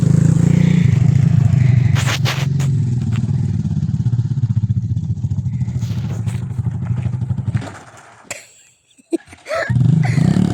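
A small 300 cc Chinese quad bike engine revs and drones loudly up close, cutting out briefly near the end before roaring back, with a few clattering knocks.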